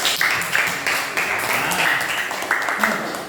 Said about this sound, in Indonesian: Ya, beri tepuk tangan kepada teman-teman.